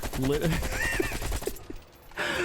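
AK-47 fired on full auto without recoil control in Black Ops Cold War, a rapid rattling burst mixed with a voice talking over it, a brief lull, then another loud burst near the end.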